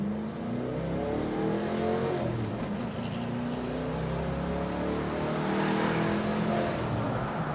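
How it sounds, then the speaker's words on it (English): A 1993 Ford Mustang Cobra accelerates hard through the gears, its engine pitch climbing and dropping in repeated sweeps with each shift, loud and close, with no talk over it. "I will do a nice acceleration past them so you can see it go through the gears"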